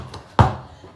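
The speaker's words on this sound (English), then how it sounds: "If you bounce the palm with your hand, it's going to sound like this." A single basketball bounce struck with the flat palm lands as one dull, close thud with a short decay and nothing else around it.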